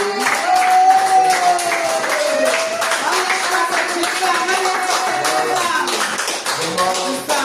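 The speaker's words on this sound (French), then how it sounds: "On va acclamer le Seigneur pour les commandos" A congregation at an evangelistic campaign gathering in Côte d'Ivoire claps to acclaim the Lord, a dense, steady patter of many hands running throughout with sustained tonal voices or music layered over it.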